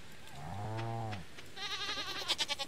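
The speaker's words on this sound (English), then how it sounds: "I'm about to touch the sheep." A sheep in the Stardew Valley farming game gives a clear, wavering bleat, and a second higher, quavering bleat follows. No speech sits over the game audio.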